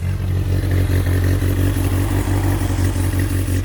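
A loud, steady turbocharged Tofaş Doğan engine drones close by with a continuous metallic rattling clatter from a broken turbo wastegate, leaking boost pressure.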